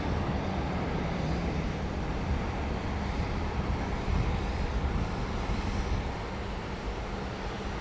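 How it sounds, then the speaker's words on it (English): A Boeing 737-800 airliner taking off at night from Dallas Love Field, a steady, loud engine roar that holds evenly throughout, heard from a distance on the airport grounds. "Off to Tulsa, Oklahoma, flight 4051, a 737-800"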